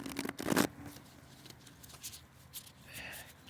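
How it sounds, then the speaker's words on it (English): Tarot deck being shuffled by hand, with a brief close riffle and soft card rustles, then quieter handling of the cards. "You want me to give a little bit of an extra shuffle?"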